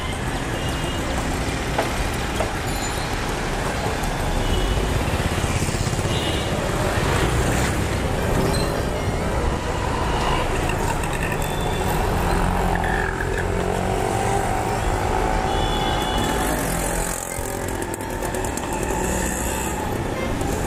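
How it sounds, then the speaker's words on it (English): Dense, continuous street traffic at the entrance to Mehboob Studios in Mumbai during the Mahindra Blues Festival, a steady mix of car and motorbike engines with scattered horn-like tones, loud and close throughout. "And the traffic, of course."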